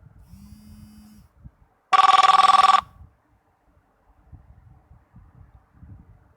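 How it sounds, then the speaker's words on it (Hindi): A phone rings once in a loud, steady electronic trill lasting about a second during a Hindi grammar lesson, with quiet murmuring and shuffling before and after. "फोन आ गया बीच में"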